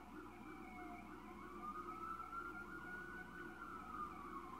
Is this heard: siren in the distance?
yes